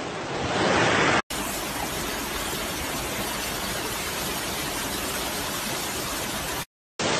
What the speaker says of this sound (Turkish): Dere Gozir'de şelaleyi çekiyoruz